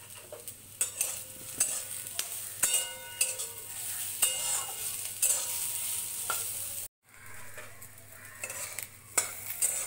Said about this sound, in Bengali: ভালো করে ভেজে নেব। এবার এর মধ্যে দিয়ে দেব ক্যাপসিকাম কুচি।